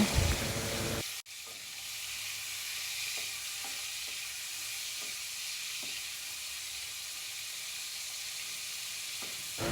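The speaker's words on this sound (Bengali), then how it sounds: "তেল গরম হয়ে গেছে, এবার মাছগুলো দিয়ে দেব" Prawns drop into hot oil in a kadai, first a brief clatter and then a loud, steady close-up sizzle with faint crackles that carries on alone.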